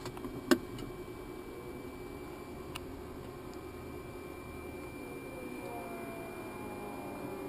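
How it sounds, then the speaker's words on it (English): Electric fuel boost pump on a Cirrus aircraft whirs faintly and steadily under a soft background hum, its tone rising near the end as the pump's speed changes, with a sharp click early on. "we're going to wait for an RPM change in the boost pump before we actually crank it"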